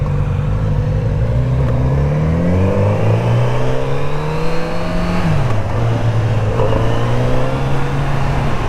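A Kawasaki 900 motorcycle is ridden with a steady, loud engine drone that climbs through the gears and dips briefly as it shifts before settling back into a smooth hum, up close with strong wind noise.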